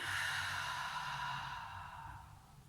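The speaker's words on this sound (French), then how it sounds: "Et expire, on vide." A deep, long exhale during a guided breathing exercise, close and breathy, starting strong and slowly fading over a couple of seconds with no talking.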